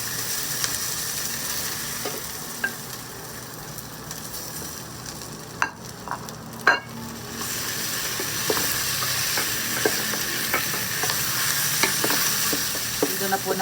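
Pork sizzles in a pot while it is stirred, for sinigang, in a home kitchen. A steady close frying hiss runs throughout, broken by a few sharp scraping stirs and pops.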